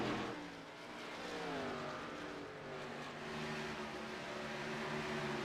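A race car cruises down the pit road at about 45 miles an hour during a blacktop oval race in Phoenix, its steady engine drone holding a mid-pitched tone with slight rises in revs, close and continuous.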